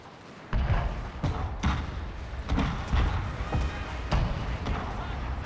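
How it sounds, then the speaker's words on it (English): Cannon and line-infantry rifle fire in a Shogun 2: Fall of the Samurai battle, heard as repeated heavy booms and thuds at irregular intervals over a constant roar of battle, with no talking. "point blank cannon fire, massive interlocking fields of fire from the line infantry"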